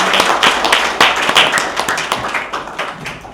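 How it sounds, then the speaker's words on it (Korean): Attendees at a Korean peace-unification symposium clap, a close, loud run of sharp distinct claps at first, gradually thinning and fading toward the end as fewer hands join in. "다시 한번 모두를 위해서 박수를 한번 더."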